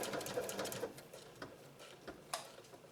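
A Janome 3160 QDC sewing machine stitches a decorative pattern with a quick, ticking mechanical rhythm, close and moderately loud, with a few sharper clicks as the needle works.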